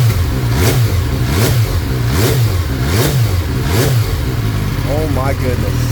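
A stock 2014 MV Agusta F3 800 EAS motorcycle engine is revved hard in a rhythmic series of about five sharp throttle blips. Each rises and falls quickly, loud and close, followed by a brief rising rev at the end.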